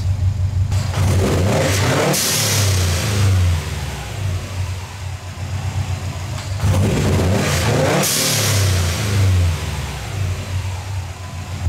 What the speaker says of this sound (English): we're going to do another hard rev and see how it does